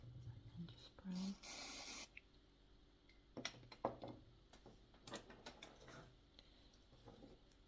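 An aerosol spray is applied to a needle-felted white rabbit: a short hissing burst of about a second stands out against quiet handling clicks and scrapes in a small room.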